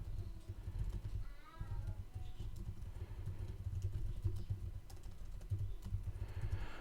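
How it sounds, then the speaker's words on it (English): Someone typing on a computer keyboard while coding, producing soft, rapid key clicks in uneven bursts over a low background hum, close and continuous. "I'm glad you like the sound of the keyboard"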